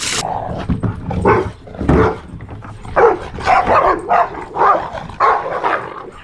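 Several dogs bark loudly and close by in repeated bursts, with growls and yips mixed between the barks.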